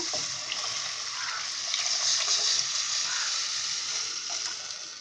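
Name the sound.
pouring tamarind water with masala into the fish curry pan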